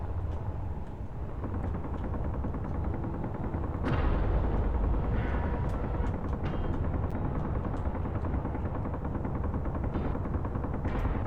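An interior defense turret in Space Engineers fires during a Reaver attack on a wasteland base, a dense, continuous rumbling barrage with rapid shots that grows louder partway through, no talk.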